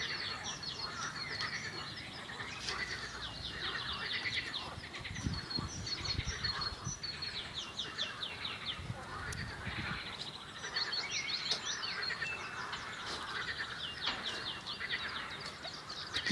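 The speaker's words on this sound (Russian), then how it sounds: "Птички поют." Springtime birdsong on a green island, many small birds chirping and trilling in overlapping bursts at moderate distance, with faint croaking frogs and soft outdoor ambience beneath.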